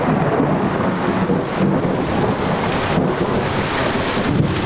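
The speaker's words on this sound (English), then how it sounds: "There is lightning all around us" Thunder rolls around a boat riding at anchor through a lightning storm, a steady heavy rumble mixed with gusting wind and water noise, loud and continuous with no talking.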